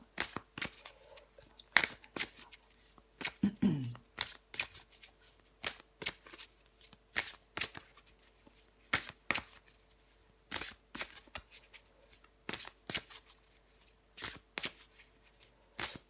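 A deck of tarot cards is shuffled by hand in repeated crisp riffles and snaps at an irregular rhythm, quiet and close, with no talking.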